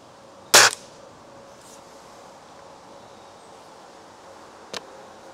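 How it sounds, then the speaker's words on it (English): Gamo Shadow Whisper air rifle firing two shots outdoors in wind, one sharp crack near the start and a fainter one about four seconds later, with a quiet windy background between them. "We will do, I don't know, 8 or so shots, maybe more, maybe less"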